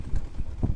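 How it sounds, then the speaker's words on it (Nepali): A horse's hooves clip-clop on the ground, a quick run of four or five close, loud thuds in a steady trotting rhythm with no voices. "घोडा"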